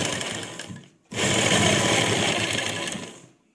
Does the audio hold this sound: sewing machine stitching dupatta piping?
yes